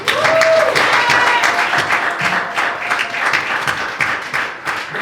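A church congregation at a Holy Supper service bursts into sustained applause, a dense wash of many clapping hands that starts loud and tapers slightly over a few seconds, with faint voices mixed in.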